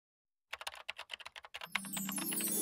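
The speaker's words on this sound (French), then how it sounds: "Comme Harold se remet au clavier, la vidéo devient ondulée" Quick bursts of typing on a computer keyboard in an office break a short silence with a dozen or so crisp, irregular keystrokes, then give way to a steady louder hum.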